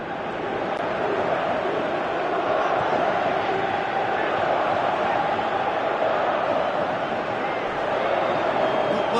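Stadium crowd roaring in a PS4 football video game, a dense continuous swell of cheering and chanting that rises slightly and holds, with commentary voices underneath.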